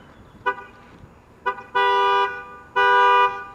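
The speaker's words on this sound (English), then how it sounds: "Or if you long press it, you get the alarm." Two short horn chirps are followed by longer, sustained horn blasts as a 2019 Chevy Malibu LT's alarm, set off by long-pressing the key fob, starts sounding, loud and repeating.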